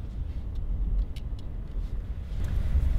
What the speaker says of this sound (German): Dann fahren wir jetzt erst einmal nach draußen.